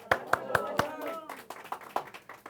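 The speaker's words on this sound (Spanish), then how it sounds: "Este es un aplauso de bienvenida" Congregation applause of welcome at a Shabbat worship service, a few sharp claps standing out over a brief patch of clapping with voices mixed in.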